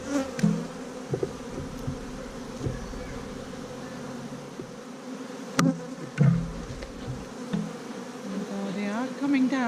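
Honeybees buzz at an open hive during an inspection with brood boxes, a steady close drone with the odd louder pass near the mic, and low muffled handling thumps underneath.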